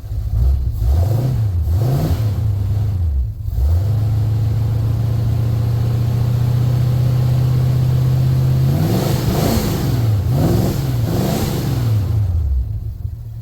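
A car engine with an Edelbrock 4150 carburetor cold-starts without choke. It gives a few sharp revs, then holds a loud, steady high drone, and finishes with another run of quick, throaty revs, close up.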